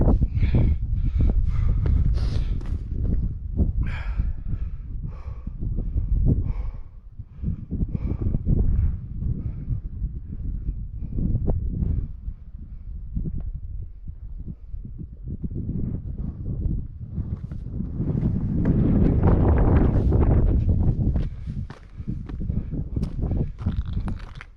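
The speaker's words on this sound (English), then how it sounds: "Up here, it's never not windy." Strong wind gusts in the Selkirk Mountains of Idaho on an autumn hike, roaring and buffeting the microphone in uneven surges, easing briefly in the middle and swelling loud again toward the end.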